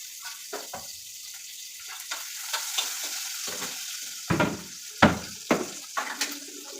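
Food sizzling and frying in oil in a home pan, a constant hiss with bursts of louder spattering and stirring scrapes that grow stronger toward the end, close and without talk.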